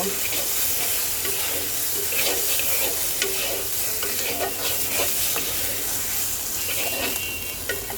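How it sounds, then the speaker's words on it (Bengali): Coriander and cumin powder lightly frying in a pan for an aloo fish curry, a steady dense sizzle with spoon stirring and scraping throughout, close and continuous. "এক চা চামচ জিরার গুঁড়া এটাকে একটু হালকা ভেজে নেব"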